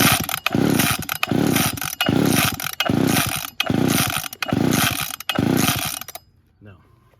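A curb-found chainsaw is pull-started over and over, each rapid cord yank giving a loud, rough ratcheting whir, about six pulls without the engine catching before everything goes quiet.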